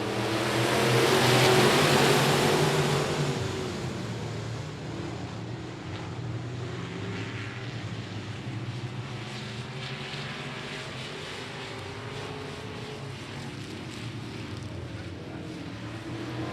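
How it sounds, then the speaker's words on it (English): Race cars at I-37 Speedway building into a loud roaring surge of engines as a field passes, then settling into a steady, more distant drone of motors circling the track. "Let's rev up those engines and get this main event going one more time."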